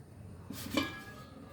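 A lid set down over a pot of caramel pudding steaming in a wok of water on the stove gives a single close, brief metallic clink and scrape, with no talk.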